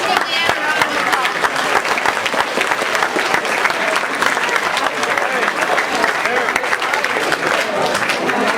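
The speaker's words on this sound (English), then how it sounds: "let's give Leanne a round of applause" An audience at a high school EMS presentation breaks into steady applause, a loud, dense wash of many hands clapping together, with a few voices murmuring underneath.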